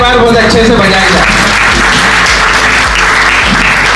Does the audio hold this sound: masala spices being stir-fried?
no